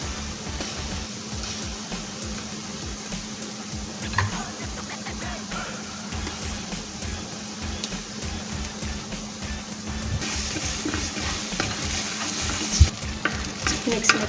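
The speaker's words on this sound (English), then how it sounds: "Mix until the tomato paste changes color." Tomato paste, powdered spices, black pepper and curry sizzle and fry in a pan while being stirred, with a continuous crackling hiss and repeated scraping strokes, close and steady throughout.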